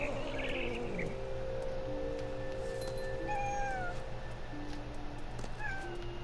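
A cat in the game What Remains of Edith Finch, giving several drawn-out, rising and falling meows over a steady low ambient hum, fairly faint and spaced apart, with a few chirping bird-like tones.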